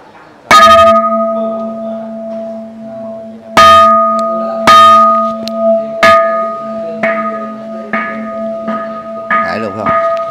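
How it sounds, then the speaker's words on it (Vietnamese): A temple bell at a Vietnamese communal house in Chau Phu is struck about eight times at uneven intervals. Each strike rings out loud and close with a long, steady, sustained hum. "Thỉnh chuông nha vị"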